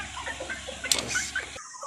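Fancy hen breeds, including a Silky hen, give a few soft, brief clucks close by over a quiet farmyard background, ending in a short burst of noise.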